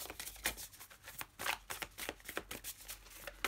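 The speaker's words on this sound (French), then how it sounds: "Je suis en train d'abîmer toutes mes cartes avec ma façon de mélanger" Tarot cards are shuffled by hand in quick, uneven riffles, a close papery flutter with light slaps that repeats throughout.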